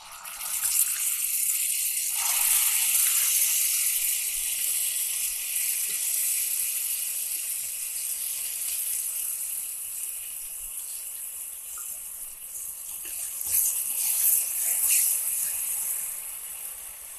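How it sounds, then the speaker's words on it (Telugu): Tamarind hits hot tempering oil for temple-style tamarind rice and sets off a bright, steady sizzle that hisses loudly and continuously, swelling again near the end. "ఇప్పుడు నేను ఇది చింతపండుని దీంట్లో వేస్తున్నాను."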